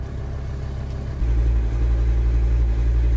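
A Volkswagen T5 van's cold engine idles roughly with a low, uneven rumble that steps up louder about a second in and stays steady and close.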